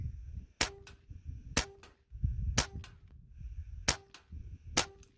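A Benjamin Maximus .177 air rifle fires Griffin 15-grain dish-base slugs, five sharp, close cracks spaced roughly a second apart, each followed by a brief ringing tail and quiet between shots.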